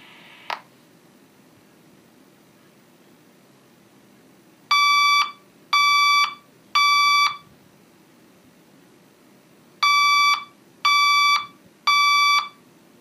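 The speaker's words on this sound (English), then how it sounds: "The fire alarm system has been activated." Fire alarm tone generator on a Firelite voice evacuation panel being tested, sounding two loud groups of three sharp electronic tones separated by a pause, after a brief click.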